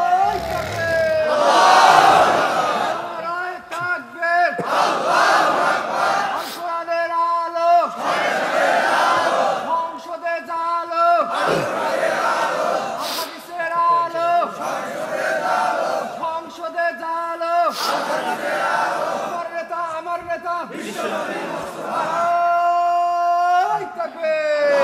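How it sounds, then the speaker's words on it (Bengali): A large crowd at an Islamic religious gathering chants takbir in loud, repeated call-and-response shouts, about eight rhythmic waves of massed voices with brief pauses between them. "দেন একজন তাকবীর দেন দেখি।"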